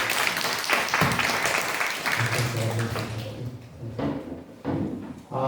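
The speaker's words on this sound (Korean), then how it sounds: "다시 한번 큰 박수 부탁드립니다" An audience at a labor-policy forum claps in a short round that thins out after a few seconds, with voices and stray knocks mixed in as the clapping fades.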